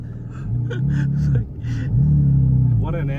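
A Porsche GT4 RS engine pulling hard under acceleration, a loud sustained drone that rises in pitch, dips briefly at a shift and climbs again, with a voice speaking briefly over it.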